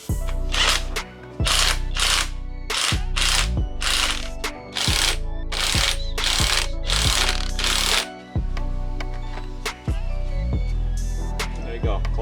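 Coil springs are compressed on a 2025 Toyota 4Runner suspension with a series of loud, close, rattling power-tool bursts separated by short pauses, ending in lighter mechanical clicks.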